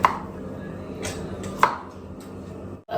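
A knife cuts through flatbread in a home kitchen, with a couple of sharp chopping strikes on a board against a low background hum and no speech.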